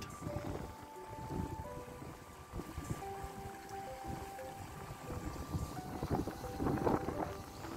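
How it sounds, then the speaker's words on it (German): Strong wind gusts across the microphone outdoors near St. Laurentius church in Wehrstedt, Halberstadt, a steady rushing roar with faint tonal hums and a few distant voices underneath. "es ist ein totaler Wind hier draußen"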